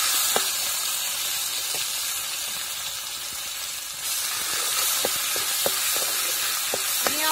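Homemade black masala sautés in hot oil for a kali shev bhaji, producing a loud, continuous hissing sizzle with scattered clicks and taps of stirring up close, and no one speaking.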